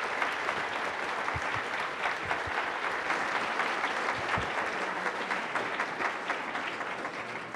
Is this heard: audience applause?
yes